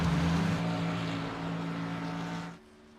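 A race car engine drones steadily during qualifying at Atlanta in a stock-car racing game, a loud, even roar for about two and a half seconds before it drops sharply to a faint hum.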